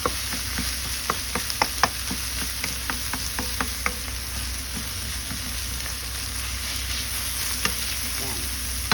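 Tofu steak sizzles steadily in a hot pan while being stirred and mixed, a constant bright crackle with scattered small pops and scraping ticks throughout.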